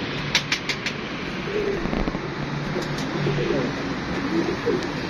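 Pet pigeon cooing softly on a rooftop loft, a few low murmuring coos under a constant hiss of background noise and some faint clicks.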